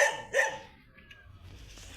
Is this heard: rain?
no